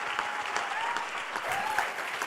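A conference audience gives a loud, continuous round of applause as architects are called to the stage, a dense, steady clapping with faint cheers mixed in.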